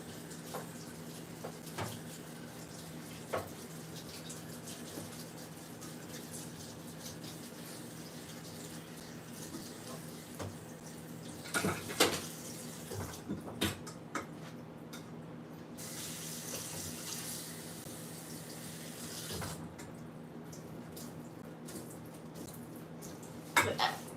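Cold water runs from a kitchen tap while lettuce is rinsed in the sink, a faint, steady hiss of flowing water with occasional clinks and splashes, heard close and continuous throughout.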